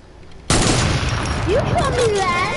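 Loud gunshots burst out abruptly in Fortnite and keep going as a dense, close volley, while a player talks over the firing.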